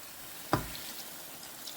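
Vegetables cooking in yogurt in a pan for a Pakistani dish give a sudden short sizzle, then settle into a quiet, steady simmer.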